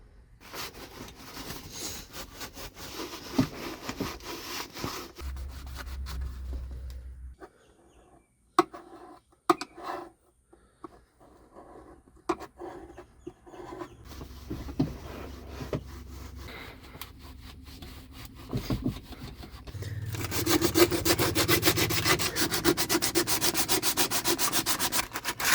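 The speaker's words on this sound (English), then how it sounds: "I think I've got this sanded down and cleaned up well enough." Metal body panels on a BMW E46 drift car being sanded and cleaned up ahead of welding, an uneven stretch of rubbing and grinding that drops to near quiet in the middle and swells louder toward the end.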